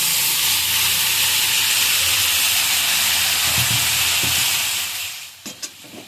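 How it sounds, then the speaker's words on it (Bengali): Boiled vegetables tipped into spices frying in a pan give a loud, steady hiss that fades out near the end, followed by a few light clinks. "এদিকে মশলাটা ভাজা হয়ে গেছে, এটার মধ্যে আমি এই সিদ্ধ করা সবজিগুলো তুলে দিচ্ছি"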